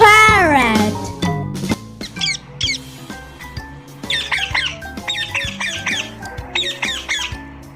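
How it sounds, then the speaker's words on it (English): A parrot gives a burst of harsh, rising squawks, then repeated sharp chirping calls over a busy mix of bouncy children's music, loud and close throughout. "P for parrot."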